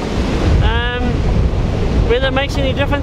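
Sea waves breaking on the north coast, a steady low roar of surf with heavy wind buffeting the microphone, while someone talks briefly over it.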